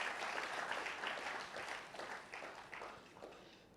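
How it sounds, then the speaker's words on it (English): Audience applause at a university launch ceremony, a soft, distant wash of clapping from a large crowd that gradually eases off in level. "Can we give ourselves a huge round of applause?"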